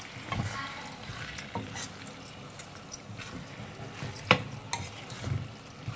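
Chicken sautéed and stirred in a pan, heard as faint, scattered scraping clicks and light metallic taps over a low, quiet background.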